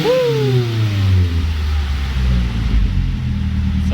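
A Mazda Speed 3 engine with a new downpipe idles with a rising whistle and whoosh of turbo intake air at the start, settling into a steady low rumble.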